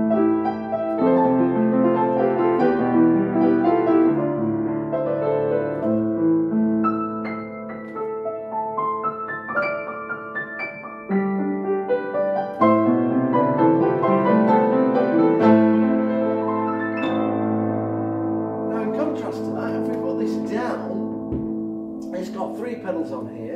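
Refurbished Yamaha U3 upright piano played solo in a steady, flowing passage of chords and melody, resonant and fairly bright, close and continuous without speech.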